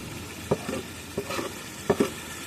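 Masala for chicken biryani sautéing in a pan, a faint low sizzle broken by a few soft scrapes and taps of a stirring spoon, close by and with no talk.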